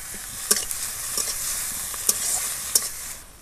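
Ginger and garlic paste sizzling in oil in a pan, steady close frying hiss punctuated by three or four crisp spatula knocks and stirring scrapes, with no talking.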